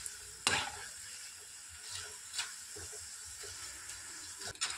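Jackfruit chips frying in hot oil and being stirred, a steady soft sizzle with occasional louder scraping stir strokes, fairly quiet and close, no talk.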